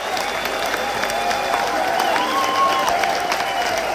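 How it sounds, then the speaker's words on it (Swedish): A packed away section of hockey fans cheering and applauding a goal in a Västerås vs Brynäs game, a dense continuous roar of crowd noise and clapping with whistles and shouts, loud and sustained throughout. "Och jubel på bortastå som är fullpackad där"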